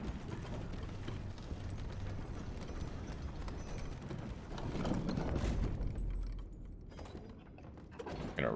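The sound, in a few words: elevator moving in video game Elden Ring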